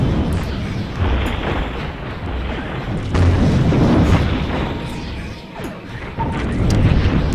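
A slow bomb launch and explosion in Space Pirates and Zombies roars as a loud, dense, continuous rumble of blasts and mechanical effects that swells and fades with no speech.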